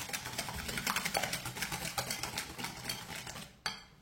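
Sugar is whisked by hand with a whisk in a bowl for a lemon meringue dessert: rapid, steady metallic ticking and scraping close up, running without pause until a brief break near the end.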